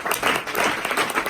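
A church congregation breaks into brief, dense applause, the clapping close and lively for about a second.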